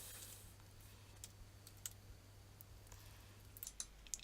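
Typing on a computer keyboard, heard as sparse, faint, close key clicks over a quiet background hum, with no speech.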